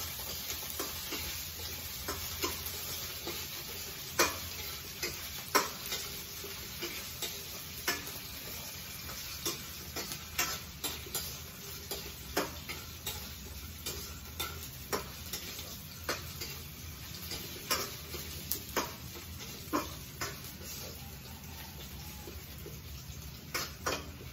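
Potatoes frying in a pan while chicken adobo with pineapple is being cooked, a steady continuous sizzle with frequent sharp pops and utensil stirring scrapes throughout, close and fairly loud, no talking.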